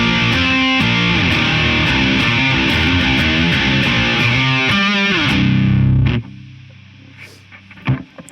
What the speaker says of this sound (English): It's a symmetrical overdrive.